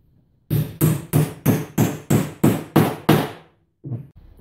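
Nine sharp, evenly spaced hammer blows drive nails into a wooden pallet table frame, loud and close, each strike ringing briefly before a pause and two softer knocks at the end.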